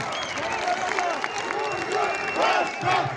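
Crowd at a political campaign rally in Afyonkarahisar for a mayoral candidate, clapping and cheering with shouted voices over an amplified announcer, swelling louder near the end.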